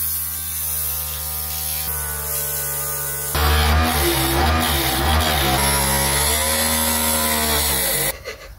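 A cheap mini lathe spins a wood turning between two centers for reshaping, giving a steady loud motor hum with harmonic whine that rises as the tool bites, then cuts off near the end, with no talk.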